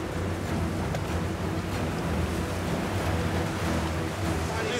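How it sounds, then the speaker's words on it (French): Big waves and strong wind on the Yukon River, heard from a raft as a steady, loud, broadband roar of wind buffeting and churning water that fills the whole stretch without letup. "Les vagues sont grosses, le vent est merdique."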